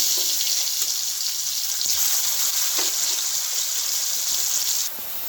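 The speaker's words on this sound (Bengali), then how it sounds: "আলুগুলো আমি ভেজে নেব।" Potatoes coated in salt and turmeric fry in oil for a Bengali jackfruit and prawn dish, giving a steady, loud, hissing sizzle throughout that drops slightly in level near the end, with no talking.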